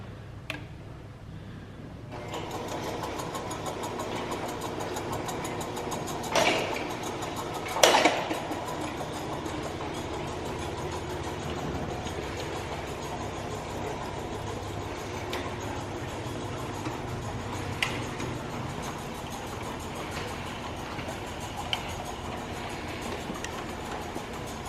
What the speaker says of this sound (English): This is the Garvey 21-foot long stainless steel motorized bottle conveyor with variable speed.